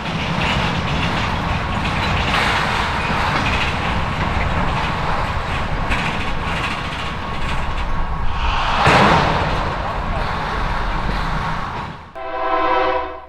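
A Lake State Railway local freight train rumbles steadily past at close range, a continuous heavy roar of rolling wheels, ending with a brief blast of a horn.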